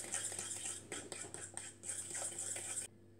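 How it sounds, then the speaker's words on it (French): Cake batter ingredients stirred and mixed in a bowl, with a utensil scraping and clinking against the sides in a steady, continuous rhythm, close and fairly quiet, stopping just before the end. "vous mélangez le tout"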